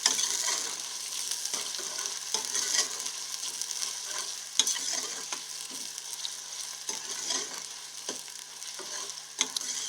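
Sliced onions sizzling in hot ghee in a pan, a steady bright frying hiss with intermittent scraping and clicking as they are stirred, close and continuous without any talk.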